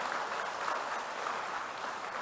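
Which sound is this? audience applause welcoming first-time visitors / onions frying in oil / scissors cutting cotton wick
audience applause welcoming first-time visitors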